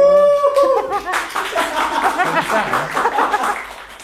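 Studio audience clapping with laughter and cheering as a guest is welcomed on an Indonesian talk show about the Surabaya food business, a voice heard briefly at the start before the applause fills the room.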